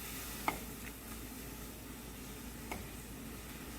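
Sambar powder fries in sesame oil for puli kuzhambu, a faint steady sizzle with a couple of light clinks of a spoon as it is stirred.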